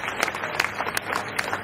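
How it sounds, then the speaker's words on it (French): An audience at an outdoor summer political gathering in Châteaudun claps, moderately loud but somewhat distant, with a few distinct sharper claps standing out from the general applause. "je pense qu'on peut les applaudir une nouvelle fois"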